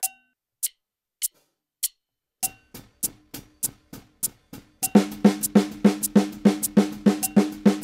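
Sharp metronome clicks at a steady 100 BPM, sparse at first, then joined by denser accented sixteenth-note clicks subdividing each beat, crisp and close.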